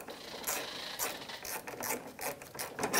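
Ratchet snugging a front bolt on a bumper bracket of a 2009-2013 Honda Fit, giving a close series of quick rasping clicks in short repeated bursts, with no talking.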